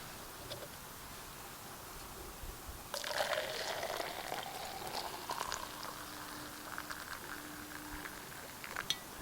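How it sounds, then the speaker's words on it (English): Hot water pours steadily into a cup of instant decaf coffee at a solo campsite in early fall, a quiet, close trickling that rises as the cup fills. "Now we'll just pour some hot water in there."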